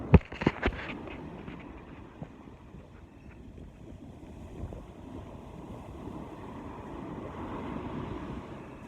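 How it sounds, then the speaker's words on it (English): Ocean waves and surf wash steadily at the shore with wind buffeting the microphone, a few sharp thumps at the start, and no talking. "this is Relly in the water getting absolutely fucked by the waves"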